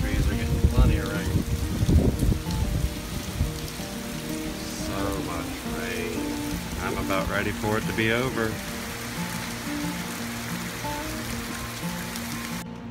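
Heavy rain from Tropical Storm Cindy falls steadily on trees as a constant hiss, with people talking over it at the start and in short bursts later.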